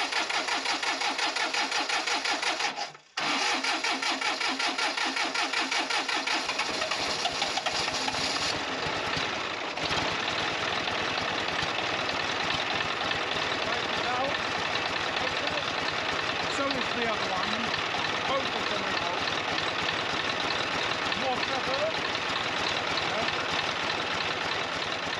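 An engine on an off-grid property in Portugal starts after a brief pause and settles into a steady, fairly quiet idle that runs on throughout, while people talk nearby.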